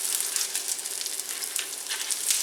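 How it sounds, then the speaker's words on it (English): Black bean burger patties fry in a hot skillet, giving a steady close sizzle with broad crackling hiss that holds level throughout, no voices over it. "saute in the skillet until the underside develops a crust"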